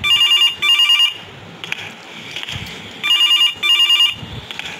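A telephone bell rings in a horror video game: two paired bursts of bright electronic trilling, a pause filled with low rumbling ambience, then two more bursts, loud and close.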